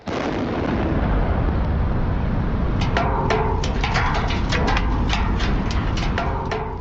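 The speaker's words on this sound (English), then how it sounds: "Check out this massive explosion in Western Kentucky." Massive demolition blast bringing down the cooling towers of a closed coal plant in Western Kentucky, a sustained deep roar followed by a rapid series of sharp cracking charges, loud and booming.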